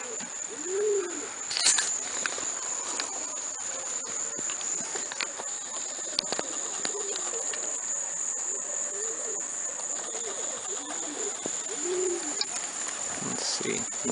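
Pigeons coo softly in short repeated phrases against a steady outdoor background with insect-like hiss, with brief wing flutters and knocks from birds landing, all fairly faint.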